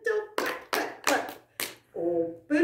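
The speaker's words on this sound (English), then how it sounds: "give a little clap, clap, clap" Children's story-time hand clapping in a nursery rhyme, four sharp claps in a quick rhythm between bits of sung speech, close and clear.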